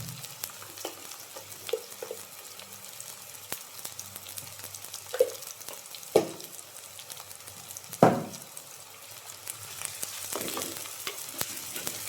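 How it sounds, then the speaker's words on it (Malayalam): Small onions frying in a pan for a cabbage and green pea stir-fry, a soft, continuous sizzle broken by occasional stirring scrapes and a couple of louder spoon knocks, close and unaccompanied by speech. "ഒന്ന് ഉള്ളി മൂക്കണം."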